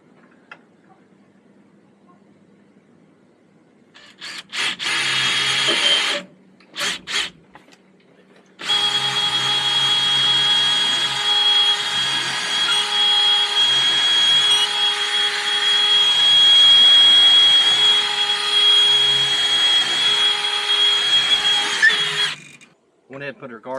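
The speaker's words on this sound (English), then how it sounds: "I drill a hole there around a piece of wire" A power drill whirs in short bursts, then runs loudly and continuously for a long stretch before stopping, drilling a hole in an off-grid greenhouse, close by and fairly loud.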